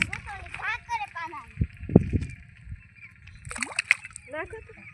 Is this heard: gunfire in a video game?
no